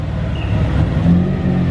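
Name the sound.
rotary-engined BMW E36 car idling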